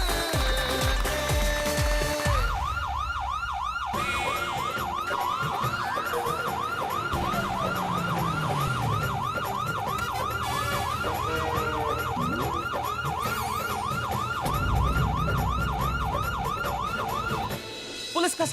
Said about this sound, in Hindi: पुलिस का सायरन यानी कि टेंशन